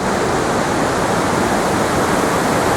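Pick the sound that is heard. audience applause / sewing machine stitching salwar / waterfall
waterfall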